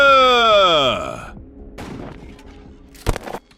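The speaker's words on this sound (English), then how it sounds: "See, gunshot too?" Gunshots in a video game, where a descending whistling tone fades into quiet background noise before a sharp, close gunshot crack cuts through, followed by a brief rattle.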